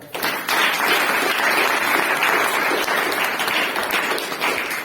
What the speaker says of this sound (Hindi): ताली बजाएं थोड़ा